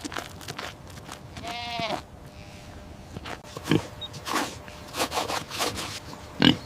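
A small black Savannah goat bleats once in a wavering, quavering call, close and clear, amid faint rustling and soft knocks on wood.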